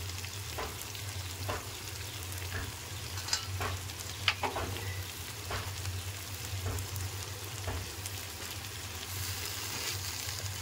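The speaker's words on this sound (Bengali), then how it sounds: "এবার এতেই আমি বরবটি কুটে রেখেছি, সেই সবজিগুলো ভাজতে ভাজতেই আমার পুরো সবজিটা সিদ্ধ হয়ে যাবে।" Yardlong beans and potato frying in oil over a low flame give a steady, fairly quiet sizzle with scattered scraping stirs and an underlying low hum, with no voices.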